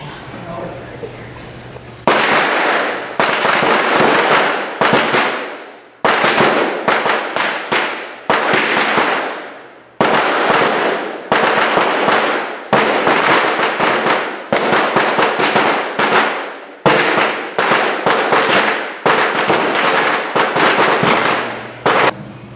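A long string of firecrackers goes off during a Buddhist gathering, loud crackling bursts rattling on for about twenty seconds with brief gaps between clusters over a steady low background hum.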